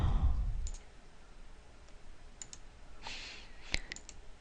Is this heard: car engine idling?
no